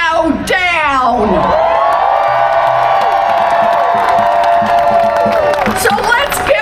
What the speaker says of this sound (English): let's give a cheer for every patriot who showed up today